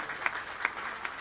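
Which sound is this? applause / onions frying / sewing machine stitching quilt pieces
applause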